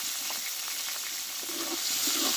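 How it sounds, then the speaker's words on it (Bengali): Tomatoes seasoned with turmeric powder and salt fry in a pan for an eggplant dish, giving a steady, close sizzle with faint crackles that rise slightly toward the end, no voices. "দিয়ে টমেটোটা একটু ভালো করে কষে নেব।"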